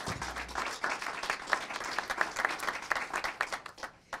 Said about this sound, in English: Let's give Black Bear Diner another round of applause.